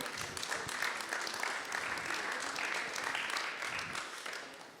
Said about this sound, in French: Je vous propose de l'applaudir pour lui souhaiter la bienvenue.